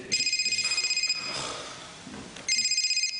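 A telephone rings in two bursts of repeated electronic trills separated by a pause, with faint talk and room noise in the gap, in a French hidden-camera prank setting.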